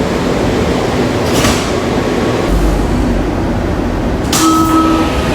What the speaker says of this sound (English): Step back, doors closing.